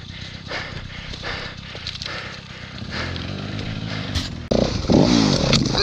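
Hard enduro dirt motorcycle ridden over rough terrain, the engine revving and bogging in uneven bursts with thumps and rattles, growing louder and harsher near the end.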